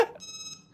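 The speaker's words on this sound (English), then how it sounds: "What is that beeping?" A short electronic alarm tone beeps in the video game Lethal Company, a bright steady electronic ring following a brief soft thump, heard alone and clearly.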